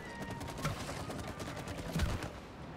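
Rapid bursts of gunfire from the co-op video game It Takes Two crackle in quick, repeated volleys at moderate loudness, with a couple of heavier thumps mixed in. No voices.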